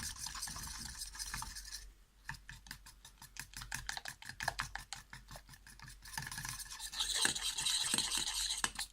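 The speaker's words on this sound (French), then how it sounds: "Voilà, on va bien mélanger le miel." Honey being stirred for homemade beetle jelly, heard as a close, quiet run of rapid scraping and tapping strokes against a container, rhythmic in the middle and busier and rougher at the start and end.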